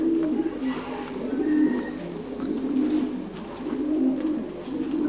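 Thai Titan meat pigeons on a farm in Đắk Lắk, Vietnam coo in low, soft, continuous rolling calls that overlap one another, moderately close, with faint chirps above.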